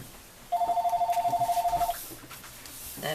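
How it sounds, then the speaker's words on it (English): A landline telephone rings indoors, one steady warbling electronic ring of about a second and a half, moderately loud, followed by quiet room sound and the start of another ring. "That phone we ignore."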